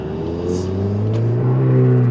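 Mk7 Golf R exhaust in normal mode, revving in first gear: a deep, steady rumble that swells gradually louder as revs climb, heard close with a faint whir above it.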